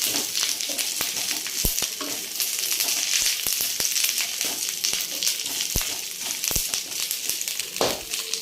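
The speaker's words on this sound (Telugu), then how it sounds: "మన కరివేపాకు అనేది నూనెలో వేయించుకుంటున్నాము" Curry leaves frying in a little oil over low heat, a dense bright crackling sizzle with frequent sharp pops and stirring knocks, continuous and close.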